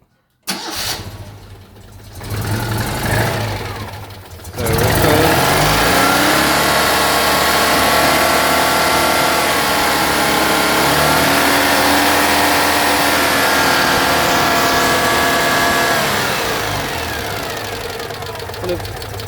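Citroën 2CV engine cranking on the starter for a few seconds, then catching and running steadily at a loud, close, rattly idle that settles slightly lower toward the end.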